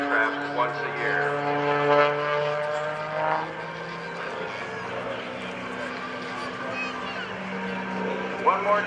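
An aerobatic airplane flown by Sean Tucker makes a low pass at the 2011 Rhode Island Air National Guard open house airshow, its steady engine drone sustained throughout while an announcer speaks over the public address.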